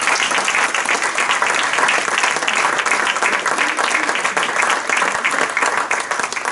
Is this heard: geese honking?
no